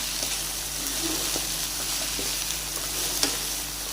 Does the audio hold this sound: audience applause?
no